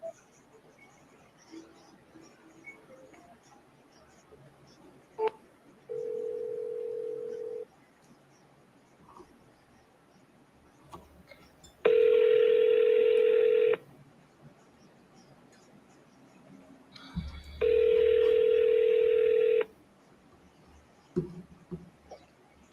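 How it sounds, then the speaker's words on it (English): A voicemail system's recording beep: steady electronic tones, with a short quieter tone first and then two loud sustained beeps of about two seconds each, heard alone over faint line hiss. "At the tone, please record your message."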